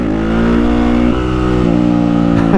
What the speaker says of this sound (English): you hear this? The idles are high now.